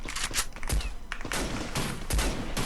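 Sniper and rifle gunfire in a shooter video game tournament match, a rapid run of sharp, loud shots and bursts packed close together over a noisy background.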